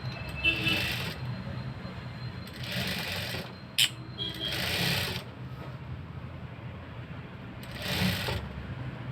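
Sewing machine stitching a folded hem on a blouse, running in several short bursts of rapid mechanical chatter separated by pauses, with a low motor hum and handling noise throughout.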